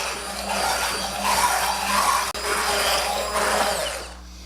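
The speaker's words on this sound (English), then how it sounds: "All right, we're just gonna blend this up." Corded stick blender blending pizza sauce with red pepper flakes, a loud buzzing motor that swells and dips in pulses, with a brief cutout midway, close by and alone.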